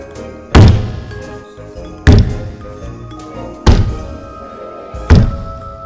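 Horror-story sound effect of footsteps on a roof: four heavy, evenly spaced thuds about one and a half seconds apart, each booming and fading, loud and alone.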